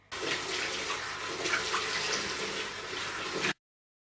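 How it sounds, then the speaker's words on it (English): Tap water running steadily into a sink while a face is washed with cleanser, a constant close splashing stream that stops abruptly. "I'm just about to wash my face and I wanted you to see that I'm really washing my face"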